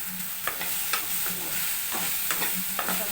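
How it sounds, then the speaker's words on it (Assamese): Vegetables, including okra, being stirred as they fry in a pan and start to stick to the bottom, with a constant sizzle and a regular series of scraping strokes, close and with no talking. "আমি চব্জিখিনি অকণমান লৰাই লওঁ।"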